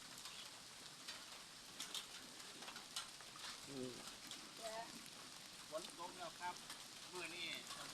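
Faint, steady hiss of rain falling, with scattered bird calls and a few soft voices in the background.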